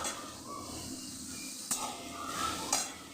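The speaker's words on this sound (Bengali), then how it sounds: "চলো এখানে তরকারিটা একটু ভাজা হোক।" Vegetable curry frying in a pan, a steady soft sizzle with two sharp metallic scrapes of a spatula against the pan.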